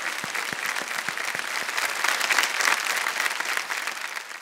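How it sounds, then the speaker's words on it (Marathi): An audience applauds a kirtan performer with dense, steady clapping that holds loud and even for several seconds, a few sharper individual claps standing out near the start. "मला असं वाटतं दादा त्यांच्यासाठी जोरात टाळ्या वाजवाव्यात"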